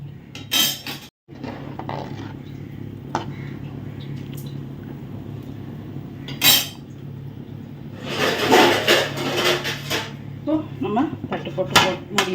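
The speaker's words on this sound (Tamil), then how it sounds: "அஞ்சு நிமிஷம் ஊறி கழுவி வச்ச அரிசியை வந்து இதில் போடுறோம் ஒரு வாட்டி கிளறி விடுங்க" Soaked, washed rice is stirred in a metal cooking pot, giving soft scraping and light clinks that grow busier toward the end, while a person talks.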